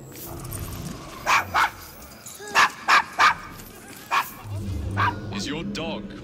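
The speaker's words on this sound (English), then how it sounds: "Is your dog quite all right?" A dog in the video game Assassin's Creed Syndicate gives about six short, sharp barks and yips in loose bursts, with people talking before and after.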